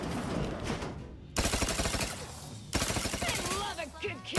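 Sustained automatic gunfire in the sci-fi shooter The Outer Worlds 2, loud bursts of machine-gun fire that cut out and restart twice, with a voice speaking over parts of the shooting.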